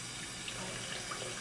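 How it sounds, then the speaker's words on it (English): Water runs steadily from a tap into a partly filled sink during denture cleaning, a continuous close splashing flow with no talking. "once my sink is partially filled with water"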